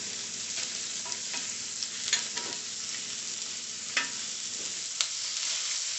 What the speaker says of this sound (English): This heat is high, and I just want to get a really good sear